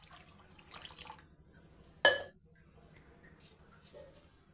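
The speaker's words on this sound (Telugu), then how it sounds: "ఇప్పుడు వాటర్ వేసి" Water is poured onto soaking ragi millet with fenugreek seeds: a short, quiet splash and trickle in a calm kitchen, with a brief louder gush in the middle.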